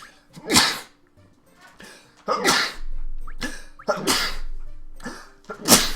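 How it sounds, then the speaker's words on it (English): Repeated cartoonish sneezes from a character in the video game Phantom Brave, about five sharp bursts spaced through the stretch, loud and close, with a faint low game tone beneath. "Sneezing."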